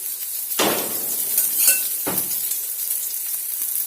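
Rice cutlets frying in oil in a pan, a steady close sizzle with a couple of brief louder hisses and light utensil clinks, no voices.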